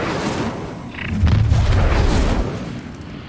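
An Incendio fire spell cast in Hogwarts Legacy gives a loud, close whooshing burst that swells into a rumbling boom and fades over a couple of seconds.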